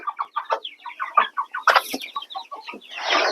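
A chorus of young roosters clucks and squawks in quick, uneven bursts, close by, ending in a brief rushing noise.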